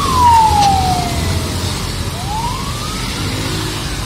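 A loud wailing ambulance siren sweeps down in pitch and then rises again, passing nearby over the rumble of traffic.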